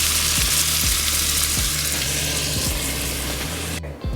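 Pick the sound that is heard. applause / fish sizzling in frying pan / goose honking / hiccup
fish sizzling in frying pan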